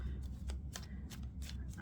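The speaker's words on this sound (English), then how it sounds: "I'm shuffling these cards" Oracle cards riffle and shuffle in quick, crisp bursts, close by, repeated several times over a steady low background hum.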